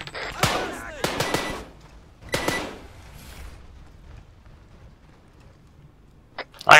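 Gunfire in a military shooter game set aboard a ship: a few loud bursts of rapid shots, then a quieter stretch, and a sharp blast at the very end.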